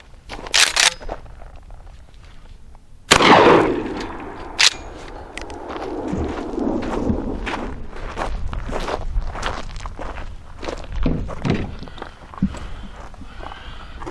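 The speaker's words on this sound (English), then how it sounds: "So we're going to shoot another 8-shot." A single sharp blast from a 12 gauge shotgun loaded with an Aguila mini 8-shot shell rings out at close range, followed by footsteps and light handling noises.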